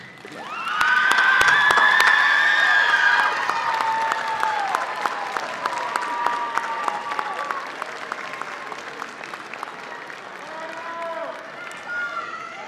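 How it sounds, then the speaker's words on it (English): A large commencement crowd applauds and cheers loudly for family members, with dense sustained clapping, whoops and shouts that gradually thin out while a voice speaks over the crowd. "let's stand and give a round of applause to all of your family members and loved ones here with you"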